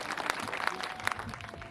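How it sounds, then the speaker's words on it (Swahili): Applause from an audience at a humorous Kikuyu-language gathering, a steady wash of many hands clapping at moderate distance with a few sharper claps standing out, fairly quiet throughout. "Tumpigie makofi."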